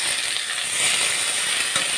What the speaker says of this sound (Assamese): এতিয়া আলুখিনি ধুনীয়াকৈ ভাজি আছোঁ